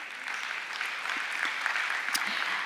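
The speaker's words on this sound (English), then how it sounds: "Another round of applause for Helicon" An audience at Blockchain World Abu Dhabi claps in steady, moderately loud applause with no voices over it.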